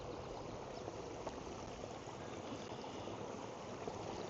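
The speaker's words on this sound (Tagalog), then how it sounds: "May tubig." Steady, close rush of water flowing in a small stream outdoors in Canada, a continuous broadband wash with no talk over it.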